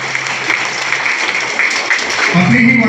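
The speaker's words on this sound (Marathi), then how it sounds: "सगळ्यांनी जोरदार टाळ्या वाजवा" An audience at a school admission festival at Chimbipada government ashram school claps together in a dense, loud, sustained burst of applause, with a voice briefly audible over it.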